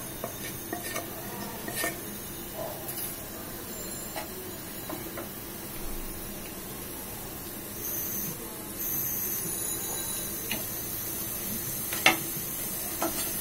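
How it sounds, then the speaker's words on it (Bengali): A hilsa fish head fries in hot oil with a steady, low crackling sizzle and soft scattered pops, joined by one sharper clink near the end; no one speaks. "তেলটা গরম হয়ে গেছে ইলিশ মাছের মাথাটা দিয়ে দিই"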